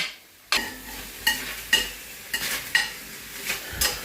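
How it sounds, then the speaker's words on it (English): Portobello mushrooms sizzle in a hot frying pan, with a steady frying hiss and several sharp scrapes and stirring clatters spaced through the clip. "we're adding the portobello mushrooms into the frying pan now"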